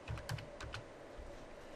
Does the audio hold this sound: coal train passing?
no